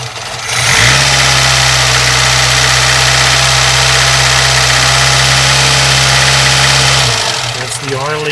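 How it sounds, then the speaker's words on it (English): An Abarth car engine with an oil leak near the distributor is revved and held at a steady high pitch for about six seconds, then drops back toward idle, loud and close. "Take a look at this area when I rev it."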